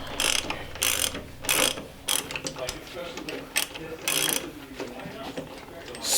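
A puller tool draws a part off a Lexus IS300 engine with a rapid ratcheting clatter in short bursts, near and moderately loud, with pauses between strokes.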